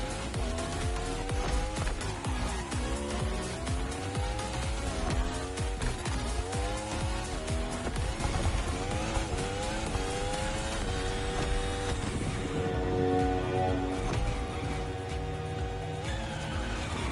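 Car in The Crew Motorfest pulling a handbrake turn on a sharp corner, tires skidding and squealing over a constant loud engine drone, with pitch sweeps as the revs rise and fall, no voices.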